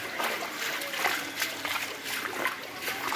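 Floodwater from hill-stream surges and heavy rain in a Sylhet suburb splashes and trickles continuously through flooded residential streets, with steady close sloshing and no talk.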